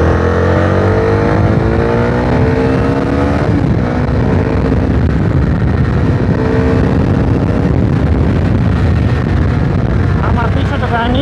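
A Zontes T310 motorcycle engine revs loud and close, a steady gritty roar with rising and falling pitch as the throttle is worked, under wind buffeting throughout.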